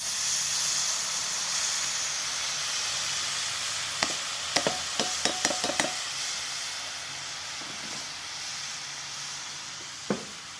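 Banana flower (mocha) paratha batter poured into a hot pan: a steady hiss of sizzling oil throughout, with a cluster of sharp spoon or pan clicks in the middle and another knock later, no talking.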